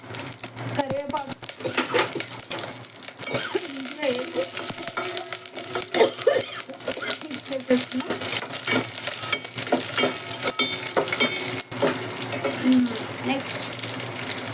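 Curry leaves hit hot oil in a tempering pan with mustard seeds, cumin and chilies, giving a close crackling sizzle with stirring scrapes and spatters throughout while someone talks over it.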